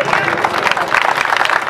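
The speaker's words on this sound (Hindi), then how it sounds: "जोदा तालियां हो जाए एक बार रोहन के लिए।" Crowd applause with clapping at a football tournament prize distribution in Ranchi, a steady dense patter of many hands close by, filling the whole moment with a loud voice talking over it.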